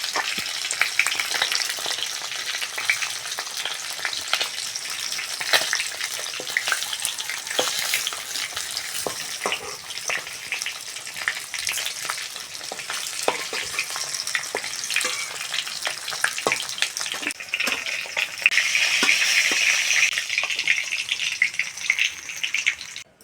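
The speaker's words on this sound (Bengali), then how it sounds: "মাছগুলো তেল থেকে তুলে নেব।" Mrigal fish pieces frying in hot oil give a steady, loud sizzle for the whole stretch, with crackles and spatters throughout and a brief stir or clink near the end; no one speaks.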